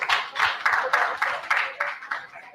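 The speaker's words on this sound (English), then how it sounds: "Big round of applause." An audience claps to welcome panelists at a launch event, with rhythmic bursts of group clapping in regular pulses, close and moderately loud.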